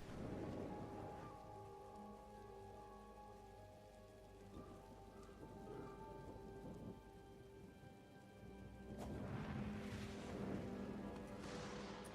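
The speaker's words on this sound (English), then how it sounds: "But it's raining." Steady video game rain patters continuously while low thunder rumbles underneath, with a faint humming tone in the background and the downpour swelling near the end.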